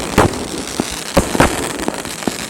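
A New Year fireworks battery fires off a run of sharp bangs and crackling pops, irregularly spaced over steady outdoor background noise, with no voices.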